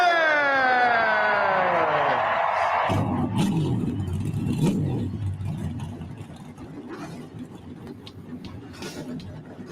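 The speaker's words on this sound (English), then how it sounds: "start your engine!" A NASCAR race car engine revs hard: a high mechanical whine climbs and sweeps in pitch, then breaks into a loud, throaty roar that rumbles on and gradually fades, alone without talk.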